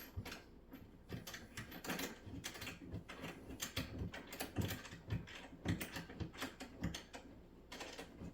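A hand tool ratchets as it tightens a fitting on an IKEA LANGARYD couch during assembly, giving a steady run of close, rapid mechanical clicks and clatter with no talk.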